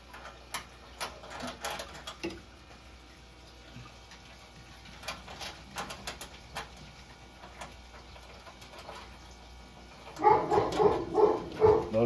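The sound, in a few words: dog barking at delivery driver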